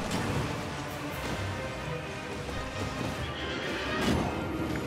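Horse neighing in Elden Ring, a whinny layered into dense game sound effects and crashing noise, fairly loud and continuous without speech.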